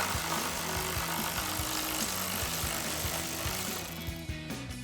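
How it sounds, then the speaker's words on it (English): A ratchet with a 13mm socket removes a grille bolt on a 2015-2017 Ford F-150, a fast, steady string of close metallic clicks continuing throughout with no speech. "We're gonna grab our ratchet and 13mm socket and take that out."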